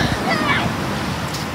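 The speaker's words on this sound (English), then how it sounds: "Boy, the waves are big today." Ocean surf churning and washing close by on a big-wave day, a constant noisy roar with a faint voice under it for a brief moment.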